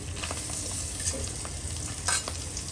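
Pangas fish belly pieces fry in oil, giving a steady soft sizzle with faint crackles and a couple of brief stirring clinks.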